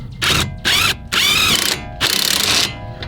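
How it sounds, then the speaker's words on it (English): Pneumatic impact wrench driving home the upper strut bolt on a car, four loud close bursts of rattling hammering separated by short pauses, with no talk. "Put the impact wrench on."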